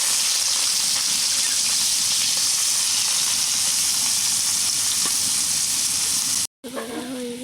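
Onions fry in oil in a wok, a steady close hissing sizzle that runs alone for several seconds before a sudden cut and a brief, different stretch.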